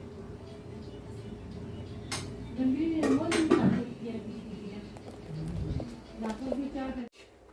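A frying pan and metal utensils clink and scrape while onions cook in oil, close and intermittent under someone talking.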